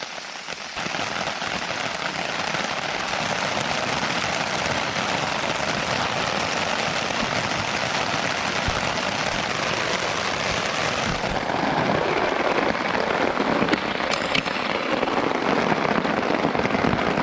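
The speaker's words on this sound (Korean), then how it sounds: "이렇게 비 오는 날 캠핑하는 기분이 어때요?" Steady rain falls at a campsite during a backpacking trip, a dense continuous hiss of drops pattering on surfaces, close and even throughout with no talking.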